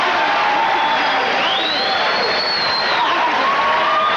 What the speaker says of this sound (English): I think they're cheering both fighters.